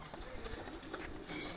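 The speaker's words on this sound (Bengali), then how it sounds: "ওখানে অনেক কবুতর, অনেক কবুতর" Pigeons coo in a zoo aviary in Moulvibazar, a short, soft burst of bird calls rising near the end over steady outdoor background noise.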